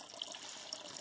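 Water trickles and splashes from the spout of a pot in a snowy outdoor picnic spot, a soft, continuous, faucet-like pour heard up close and alone.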